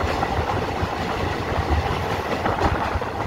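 A passenger train running through forested hills near a tunnel on the way to Kukdi Khapa waterfall, heard as a steady, loud rumble with faint clickety-clack from the wagons throughout, no voices.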